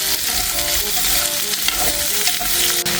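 Mushrooms and tomatoes seasoned with salt, pepper, garlic powder and thyme sizzle loudly in a hot pan. A steady, close frying hiss runs throughout, with faint scrapes of stirring.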